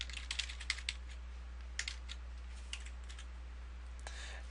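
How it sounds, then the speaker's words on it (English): Someone types a website address on a computer keyboard: quick bursts of light key clicks, close and quiet, with pauses between the runs over a low steady hum. "You can type in whatever website you want."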